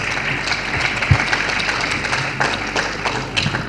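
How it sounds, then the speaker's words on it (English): Applause from a conference audience at a midwifery gathering in Nigeria, a steady wash of many hands clapping throughout, fairly loud with a single thump partway through. "A round of applause for her,"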